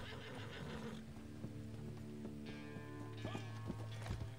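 Horse in the video game Red Dead Redemption 2 gives a loud whinny, followed by a run of hoofbeat clip-clops that grows busier toward the end, set against a steady low game drone.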